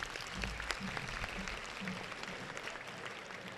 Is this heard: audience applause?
yes